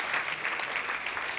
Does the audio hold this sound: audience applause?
yes